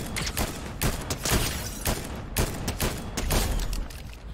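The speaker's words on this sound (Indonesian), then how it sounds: "Gue ditembakin." Rapid bursts of gunfire in the Fortnite video game ring out repeatedly across the whole stretch, loud and dense, with sharp cracks stacking into a near-continuous fusillade.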